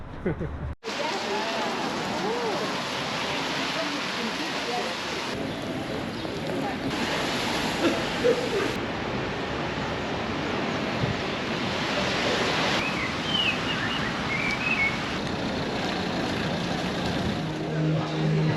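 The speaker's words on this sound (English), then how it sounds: "It started raining." Rain falls steadily on the Champs-Élysées in Paris, a dense continuous hiss of drops on pavement with faint passing traffic and occasional distant voices, heard from a sheltered spot.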